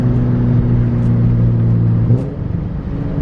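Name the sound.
turbocharged Nissan 350z VQ engine revving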